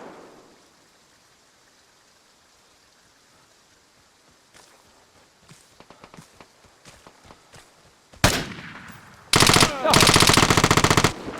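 Gunfire in the shooter game Vigor: faint scattered shots and steps first, then a loud close burst and a sustained rapid automatic volley at the end, without speech.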